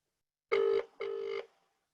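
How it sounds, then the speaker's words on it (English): A phone call to an AI assistant rings out with two clear electronic ring tones, a short burst then a slightly longer one, alone against silence. "So let's go and phone Charlie."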